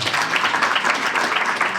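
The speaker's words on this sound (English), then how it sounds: "Clap hands for yourselves" Graduates at a career training institute graduation ceremony clap for themselves in a short, dense burst of steady applause from a large group.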